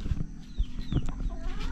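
Chickens being fed cluck and chirp close by in a busy cluster of short calls, with scuffling and bumps underneath.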